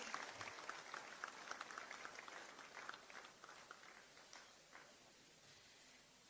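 An audience applauds at a government cheque presentation ceremony for municipal development funds, a fairly distant wash of many hands clapping that slowly thins out and fades.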